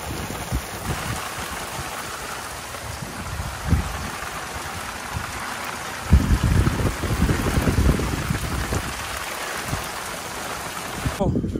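Steady rain falls over farm fields being prepared for paddy planting in stormy weather. It makes a continuous broadband hiss with occasional low rumbling surges, while someone talks intermittently nearby.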